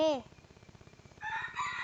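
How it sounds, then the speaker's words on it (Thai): A rooster crows once, loud and close, in the Roblox game Brookhaven RP, followed by a steady rhythmic clucking pulse and brighter chirpy game sounds toward the end. "ไก่ขันนะไม่เป็นไร"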